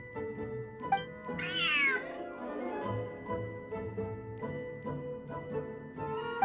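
In a video game, a cat gives one rising-and-falling meow in the foreground, set against steady game music and soft rhythmic clicks.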